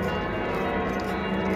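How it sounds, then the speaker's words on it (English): A church bell rings on Christmas Eve in Frankfurt, a dense, continuous wash of tolling that fills the whole stretch at steady loudness with no voices. "They played this bell for half an hour."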